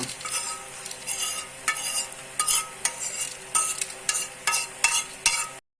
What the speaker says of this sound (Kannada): ಈಗ ನಾವು ಹುರಿದಿಟ್ಟಿರುವಂಥ ಎಲ್ಲ ಮಸಾಲೆಯನ್ನು ಇದಕ್ಕೆ ಆ್ಯಡ್ ಮಾಡುವ